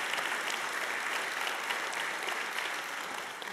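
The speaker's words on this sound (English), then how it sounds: "If Jesus has been good to you, give him a hand clap of praise." A church congregation claps in praise after a sermon prompt, a dense, steady wash of many hands applauding throughout, fairly even in loudness and fading slightly at the end.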